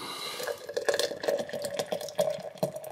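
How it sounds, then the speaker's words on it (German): Beer, a Moersleutel Earth & Mars brew, poured hard from a bottle into a glass, giving a close, steady gurgling splash with bursts of foaming liquid over about three seconds. "Man soll es vorsichtig öffnen. Und dann eigentlich relativ heftig einschütten."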